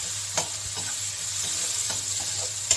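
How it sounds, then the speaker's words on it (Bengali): Onions frying in oil in a pan: a constant close sizzle with occasional scraping clicks of stirring. "এখন এর মধ্যে আমি পেঁয়াজ ফোড়ন দিব"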